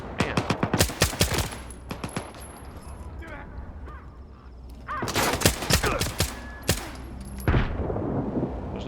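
Bursts of automatic gunfire and single shots crackle in a Stalker 2 firefight in the Zaton area, loud rapid volleys at the start and again after a lull, with faint distant shots and game ambience between.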